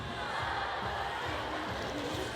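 K-pop concert crowd heard at a distance as a steady wash of faint cheering and screaming, continuous and even.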